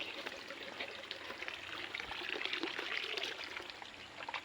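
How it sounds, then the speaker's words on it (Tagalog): Water pours steadily into a container with a bright, continuous splashing trickle, close by and quiet. "Lalagyan muna natin tubig"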